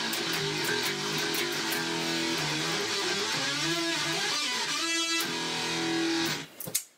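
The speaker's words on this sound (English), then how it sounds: "where I have a synth guitar tone set up" A distorted synth guitar tone played through an Axe-Fx II from an Arduino-based guitar-mounted MIDI controller rings out in sustained buzzy notes that glide and shift pitch, ending in a few abrupt cutoffs and clicks, with no talking.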